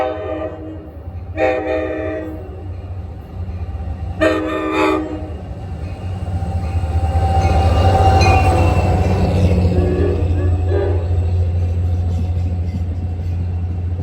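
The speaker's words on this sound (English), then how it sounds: "This is a Waldwick train, not 57." An NJ Transit Waldwick train passes near Ho-Ho-Kus and Ridgewood, with two horn blasts early on followed by a loud, swelling rumble of wheels and cars rolling by, fading slightly at the end.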